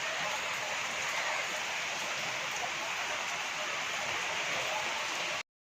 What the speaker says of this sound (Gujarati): વાગ્યા અત્યારે 9:30 અને જો વરસાદ ચાલુ થઈ ગયો.